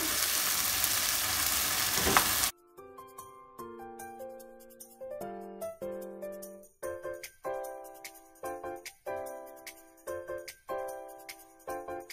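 A brief, loud sizzle of chicken frying in a pan with spice paste for a couple of seconds, then it cuts to plinking melodic tones in a bouncy rhythm.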